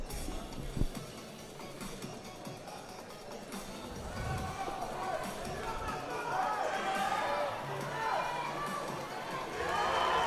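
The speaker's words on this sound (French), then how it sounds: "Du bruit du public. On aime ça. Des acclamations, le public qui répond." Spectators at a Lions FC 10 fight night cheer and shout, the crowd noise building steadily into a sustained roar, with a commentator talking over it.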